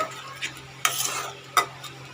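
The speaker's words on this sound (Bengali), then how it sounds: "চিংড়ি মাছ ভাজা দিয়ে আমি ভালো করে একটু নাড়িয়ে দেবো" A spatula scrapes through fried prawns in a pan twice, with a gentle sizzle running underneath between the strokes.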